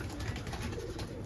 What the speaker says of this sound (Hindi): ये रहे कबूतर।